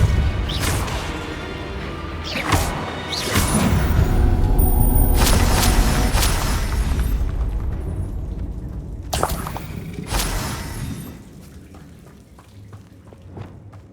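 In Hogwarts Legacy, a Repulsor spell goes off with a heavy blasting whoosh and crashing impacts, followed by more thuds, smashes and a rumbling tail as combat continues, loud and busy.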